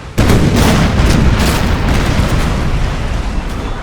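A ship's cannon firing in a naval battle in Napoleon Total War sets off a single loud, deep boom that rumbles and slowly dies away.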